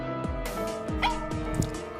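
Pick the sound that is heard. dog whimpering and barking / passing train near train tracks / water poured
dog whimpering and barking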